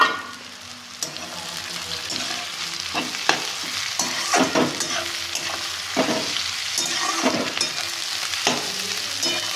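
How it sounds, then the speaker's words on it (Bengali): Cabbage and vegetables for chicken chow mein stir-frying in a hot pan, with a steady close sizzle broken by repeated scraping and tossing strokes of a spatula, no voices. "শেষে দেবো বাঁধাকপি।"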